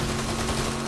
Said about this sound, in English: All the gunfire possible.